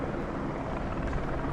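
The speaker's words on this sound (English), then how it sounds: "There is about 4 police helicopters in the air right now." Police helicopters fly overhead in London, a steady loud rotor drone that fills the whole stretch without a break.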